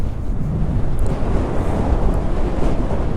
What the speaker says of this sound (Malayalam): അയ്യോ കാറ്റ്